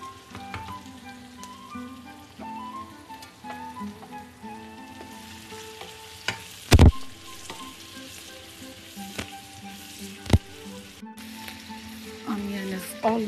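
Onion softens in a pot of lentil spinach soup, sizzling and crackling steadily up close, with occasional sharp clinks of stirring against the pot.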